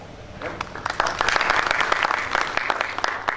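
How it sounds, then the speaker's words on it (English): Seminar audience at a dairy-sector event applauding; scattered claps build quickly into a full, steady round of applause that carries on to the end. "I would like a big applause"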